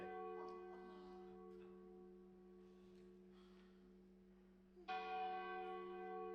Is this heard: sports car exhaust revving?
no